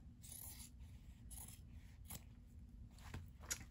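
Scissors trimming excess fabric bulk above the zipper of an in-the-hoop embroidered bag, heard as a few quiet, separate snipping cuts spaced irregularly, close by with a faint hum underneath.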